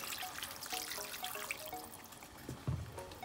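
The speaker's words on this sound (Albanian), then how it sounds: "Do t'ja hedhim sasinë e ujit derisa të mbuluhet" Water pours into a potato and beef stew in a pot, a faint trickling and splashing with soft bubbling and a brief clunk near the end.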